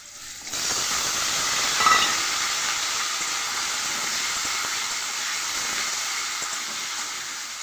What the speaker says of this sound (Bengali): আলুটাও তেলের মধ্যে দিয়ে লাল করে ভেজে নেব